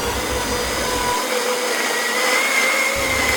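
A mixer grinder whirs continuously while blending wheat flour batter for dosa, a loud, close motor drone with a steady pitch and no pauses.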